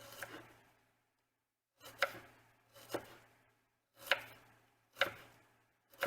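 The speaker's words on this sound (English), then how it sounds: "let's just slice these as fine as we can" A knife finely slices vegetables against a cutting board in five separate bursts, each a quick cluster of close, crisp cuts with short pauses between them.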